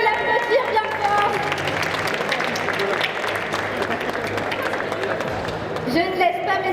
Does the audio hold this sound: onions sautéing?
no